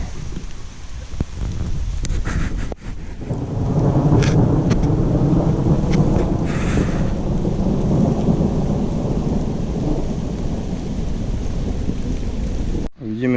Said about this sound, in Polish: deszcz pada dalej